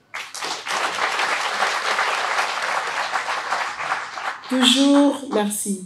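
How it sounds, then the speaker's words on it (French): An audience breaks into sustained applause at a Congolese tourism week ceremony, a steady dense clapping that swells in loudly and holds for several seconds, with a voice coming in over it near the end. "je vous invite à l'applaudir"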